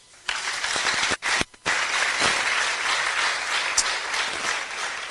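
A church congregation bursts into sustained applause that fills the room, dips briefly twice near the start, then carries on steadily with many hands clapping together.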